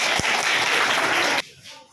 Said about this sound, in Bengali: সবাই মিলে একসঙ্গে জোরে হাততালি আরেকটা